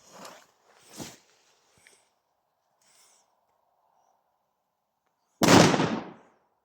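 A 2-gram Powerful Bulldog firecracker goes off in one sharp, loud bang with a short decaying tail, after a few faint clicks and footstep-like sounds in an otherwise quiet outdoor setting.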